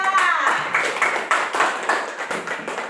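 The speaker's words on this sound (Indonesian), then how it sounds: "Mana tepuk tangannya untuk kelompok 3?" A group of students in a classroom applaud with quick, uneven hand claps that pulse steadily for a few seconds, fairly close and clear, with faint voices underneath.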